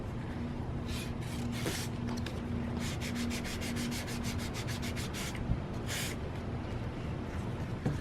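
Forged carbon fiber wallet edges being sanded with 400 grit sandpaper, a steady close scratchy rubbing in repeated quick strokes, with short bursts of faster back-and-forth passes and no talking.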